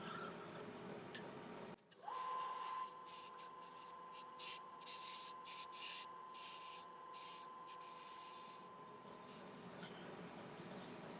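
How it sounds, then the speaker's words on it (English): Intermittent whirring of a small 3-inch sanding arbor with a 240 grit pad on wood, bursts starting and stopping over a steady background hum, fairly close. "This is a little 3-inch arbor with a 240 grit pad on it, so I'm just going to tidy"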